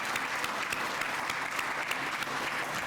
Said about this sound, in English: I think we need a big round of applause for every one of those Encouragement Award winners.